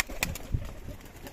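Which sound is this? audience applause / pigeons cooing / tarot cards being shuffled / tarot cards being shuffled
pigeons cooing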